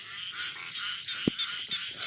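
Frog croaking at night near water in a rubber plantation during a fishing outing, a single loud, short croak standing out over a steady hiss of night insects.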